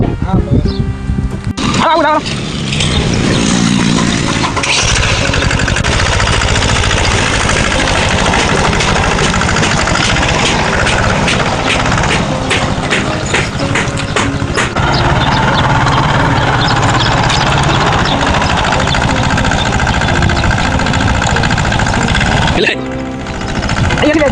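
A loud engine runs steadily throughout, rumbling at a constant idle-like pitch with rattling overtones, nearly continuous from start to finish before dropping briefly at the end.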